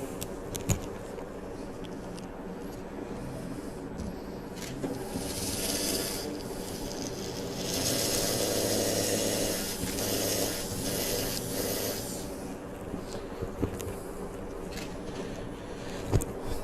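A 4.5 mm surgical drill whirs in bursts through bone during an osteotomy, grinding louder for several seconds through the middle, with faint clicks and handling noises around it.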